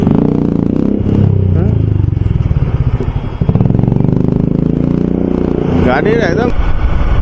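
A motorcycle engine runs loud and steady near Barasat's Star Mall, a continuous rumble with clattering and scraping mixed in.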